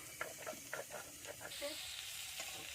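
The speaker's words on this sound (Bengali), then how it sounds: "ওদিকে আমার পটলটা ভাজা হচ্ছে" Pointed gourd (potol) frying in oil in a village kitchen makes a faint, continuous sizzle and hiss with soft stirring knocks in the first half, heard at a distance.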